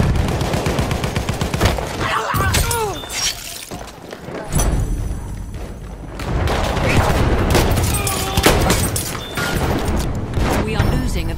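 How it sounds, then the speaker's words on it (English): Rapid bursts of machine gun fire in a first-person shooter game, loud and continuous with gunshots and explosions throughout, layered under excited voices and game noise. "machine gun right there!"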